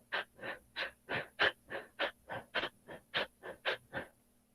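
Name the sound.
voice imitating rapid shallow breathing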